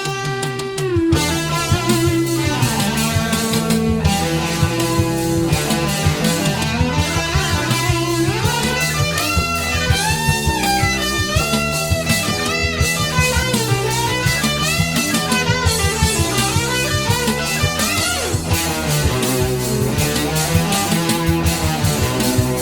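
A lead electric guitar plays the busy second solo of a song with bends and fast runs over a full band backing, loud and continuous throughout.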